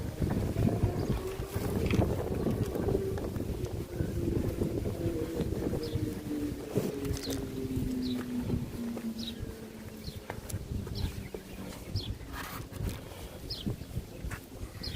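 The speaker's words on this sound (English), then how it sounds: "That wind is tough." Strong wind blows continuously outdoors on open water, a rough, steady rush that buffets the microphone throughout, with no voices.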